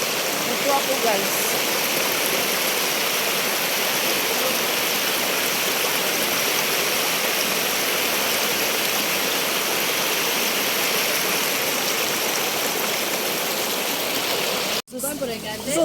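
Clear mountain spring water rushing in a river, a steady, loud, broadband wash close by that runs unbroken until a brief dropout near the end.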